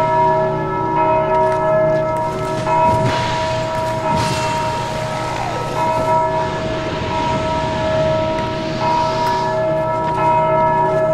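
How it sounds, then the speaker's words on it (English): A large church bell tolls repeatedly in Dark Souls II, loud ringing peals layered over a wailing, siren-like drone with clattering game sounds, sustained throughout without voices. "he rings the bell and the motherfuckers come"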